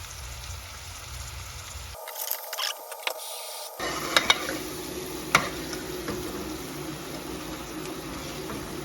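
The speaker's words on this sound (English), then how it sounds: "It's been about 9 minutes or so far cooking the onion and some tomatoes in there now." Onion and tomatoes cooking in a pot for a chicken biryani, a soft continuous sizzle with intermittent clinks and scrapes of stirring, fairly quiet and without talk.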